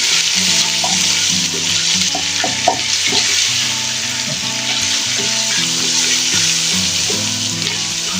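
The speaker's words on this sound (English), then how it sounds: "I will give this a nice stir." Tomato paste fries and sizzles in a pot, with a continuous hissing sizzle under intermittent scraping and clinking of a spoon as it is stirred, close and fairly loud.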